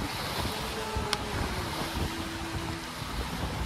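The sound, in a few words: wind at sea while sailing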